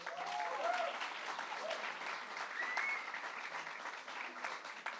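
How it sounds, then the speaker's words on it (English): Steady applause from a rally audience fills the whole stretch, a dense, even patter of clapping heard at a distance with faint whoops rising over it. "Let's give her a round of applause."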